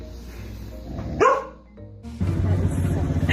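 A pet dog named Chewy, about to go play ball, lets out a short loud bark that stands out once amid a noisy home background with brief movement sounds.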